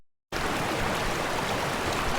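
Noland Creek in the Great Smoky Mountains flows loudly and steadily, a dense broadband rush of water that starts abruptly after a moment of silence and continues unbroken.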